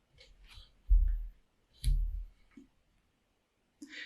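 A few soft mouse clicks land singly and sparsely, each a short low thump with a faint tick, separated by silence and ending with one sharper click.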